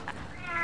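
A cat gives a single short meow, rising toward the end, heard close by in a brief indoor moment.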